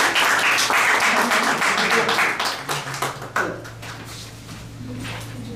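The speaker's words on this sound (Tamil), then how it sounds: "அன்பர்களே, உங்கள் பலத்த கரகோஷத்தை மீண்டும்" Audience applause at a Riyadh Tamil Toastmasters club meeting, a room of people clapping steadily and fairly close, thinning out after a few seconds to scattered claps over a low hum.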